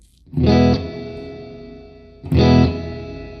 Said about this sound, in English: Let's put a little bit of reverb here from the RVT so we can switch back and forth and compare them.